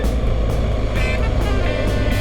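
A motorcycle rides along a mountain road, with steady, loud engine and wind roar continuing without a break.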